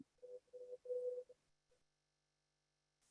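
A mobile phone sounds during a community meeting: a few short, clean electronic tone bursts in quick succession, then quiet, with a brief sound at the very end and no talk.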